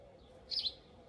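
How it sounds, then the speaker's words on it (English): One bird gives a brief, faint chirp outdoors, standing alone over a quiet background hiss. "I'm listening to the birds"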